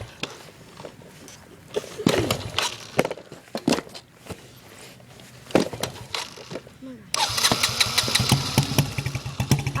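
A dirt bike engine cranks with its electric starter, catches and settles into a steady, rough idle, with a person talking over the early part.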